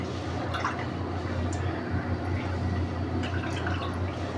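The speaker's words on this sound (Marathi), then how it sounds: "डाळीमध्ये हा पाणी टाकू." Water is poured into lentils for sambar, a steady close trickle and splash that runs without pause for the whole short stretch.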